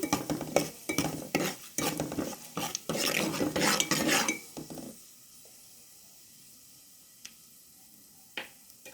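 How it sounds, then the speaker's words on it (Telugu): Tomato paste with turmeric and garlic stirred in a pan, brisk repeated scraping and clinking of a spoon against metal over a sizzle for about five seconds, then near quiet with a couple of faint taps. "ఒకసారి అంతా కలిసేలాగా మిక్స్ చేసుకున్నాం"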